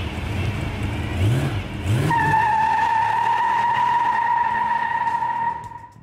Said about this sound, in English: features the 426 Hemi, throwing down 425 horsepower at the stab of the pedal